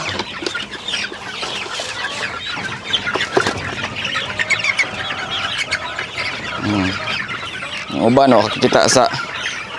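Chickens cluck and squawk steadily while being fed on a small backyard farm, a busy flock close by with a louder burst of clucking near the end, and a person talks over them.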